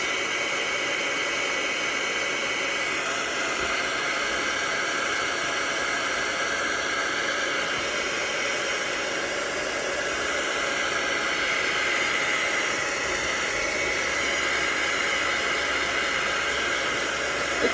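A heat tool blowing hot air to dry ink splatters on a handmade card, a continuous loud, even whooshing hiss holding steady for the whole stretch, close up with no voices.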